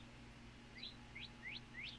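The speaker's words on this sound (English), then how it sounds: "The bird wants to speak a little bit, I think." A pet bird gives four quick, rising chirps in a row, faint and close, over a low steady hum in a quiet room.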